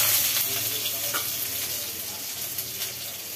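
Potatoes frying in smoking-hot oil in a kadai, a steady, close, crackling sizzle that holds evenly without any talking.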